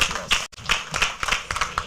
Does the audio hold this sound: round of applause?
yes